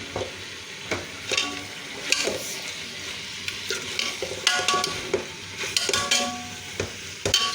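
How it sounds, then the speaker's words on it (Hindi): Kachnar (bauhinia buds) fry in a pan while being stirred, with a soft steady sizzle beneath repeated scraping and clinking strokes of a spoon against the pan, close up and with no speech. "कचनार को हम अच्छी तरह से जो है वो भून लेंगे, बिल्कुल सॉफ्ट हो जाएगी ये"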